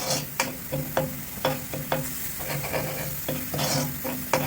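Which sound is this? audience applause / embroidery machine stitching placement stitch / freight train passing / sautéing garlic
sautéing garlic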